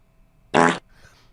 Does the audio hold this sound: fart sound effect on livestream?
yes